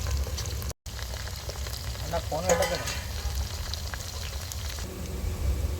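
Onions and fenugreek leaves frying in a pan for a small-fish curry, a steady close sizzle with soft stirring scrapes and a brief drop partway, with no voices over it.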